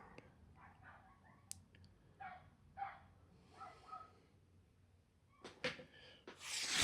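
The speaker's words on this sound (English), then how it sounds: "It's fucking dogs, bro." Dogs barking outdoors at a distance, a scattered series of faint yaps and barks, with a louder rustle at the end.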